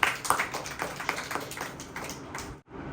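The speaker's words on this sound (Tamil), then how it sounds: "கைத்தட்டி ஆண்டவர் மகிழ்ச்சி" Hands clap in a dense, fast patter through most of the stretch, loud and close, with brief sharper accents, then cut off abruptly near the end. The clapping is part of a Tamil Christian gathering on Jesus visiting Martha and Mary.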